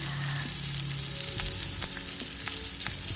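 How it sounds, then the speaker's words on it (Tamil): Coriander leaves fried into curry leaf thuvayal in a pan, a dense close sizzle with a few quick stirring scrapes and clicks. "இப்போ கொஞ்சம் வந்து நம்ம வந்து கொத்தமல்லி தழை போட்டுக்கலாம்"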